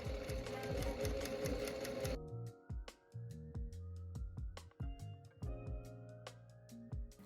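A sewing machine runs in steady bursts while stitching a blouse lining seam, its rapid mechanical whirr close and loud, stopping and restarting several times.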